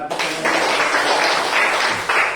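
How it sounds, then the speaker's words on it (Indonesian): Children and a teacher clapping hands during an arts lesson, a short burst of group clapping with uneven bursts, close and loud. "tepuk tangan dulu"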